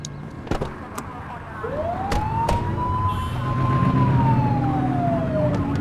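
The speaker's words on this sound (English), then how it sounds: "Turn that siren off. We don't need it on right now." Police car siren in The Precinct video game, a single rising-then-falling wail sweeping up and holding for several seconds over low engine and street rumble, with a few sharp clicks early on.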